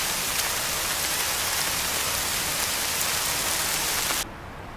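Heavy rain pours down on Mount Roraima as a dense, loud, steady hiss, then cuts off abruptly near the end.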